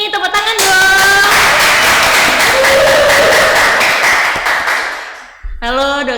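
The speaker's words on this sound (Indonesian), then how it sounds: "Tepuk tangan dong." Studio audience claps and cheers to welcome two podcast guests, a doctor and a nurse, a loud burst of applause lasting several seconds between a host's voice before and after.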